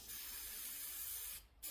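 A can of spray paint hisses steadily into a plastic takeout container, close and continuous, then cuts off briefly before a short final burst.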